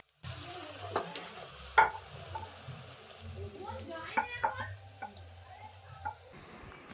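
Luchi frying in a pan of oil, a low, crackling sizzle with occasional stirring scrapes and bubbling bursts, close and moderate in level.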